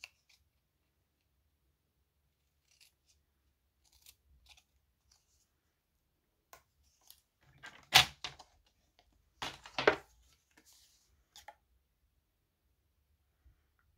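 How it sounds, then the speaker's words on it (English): Sharp scissor snips cutting card stock, a close crisp cut near the middle followed by a tight pair of louder snips, with a few faint clicks scattered through otherwise quiet surroundings. "I'm going to go ahead and snip off this extra piece here"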